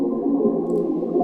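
A muffled, low-passed white noise layer sits in a Drake-style melodic beat built in FL Studio, as a steady, even hiss with no other distinct sounds.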